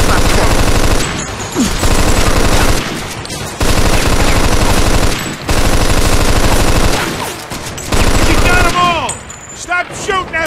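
Loud machine gun fire in the Mafia II video game, coming in long sustained bursts separated by short pauses, with a final burst trailing off into quieter scattered sounds.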